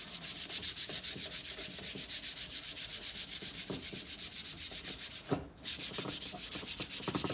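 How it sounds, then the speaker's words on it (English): Old tin snips are sanded by hand in rapid, rhythmic back-and-forth strokes, a close, continuous scratchy rasp with one brief pause near the end and no talking. "just give them a wee bit of a sand up"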